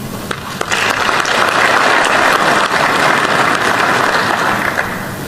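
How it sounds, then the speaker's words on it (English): Loud, sustained applause from a large audience at a Botswana national address, a dense wash of clapping that swells after a brief start and carries steadily to the end. "we must applaud you and applaud through you ourselves as a country"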